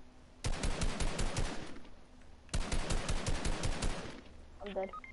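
Rapid bursts of automatic gunfire from a PS4 video game, two long loud volleys separated by a brief pause, with faint game sounds trailing at the end.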